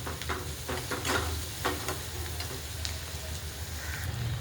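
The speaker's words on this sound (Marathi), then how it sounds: "थोडंसं खोबरं, लसूण आणि अद्रक आणि कोथिंबीरचं वाटण आहे ते टाकून घेऊया. एकजीव करूया." Coconut, garlic, ginger and coriander paste sizzling in hot oil with chopped onion, stirred steadily in a pan, a continuous close frying hiss with scraping stirs and no talking.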